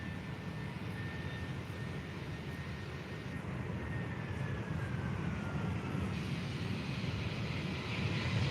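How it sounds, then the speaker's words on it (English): A Jet2 Airbus A321neo jet gives a steady, fairly distant engine roar at an airport, with a faint high whine that rises and falls and a rushing noise that slowly swells. "So now we have a Jet2 A321 Neo."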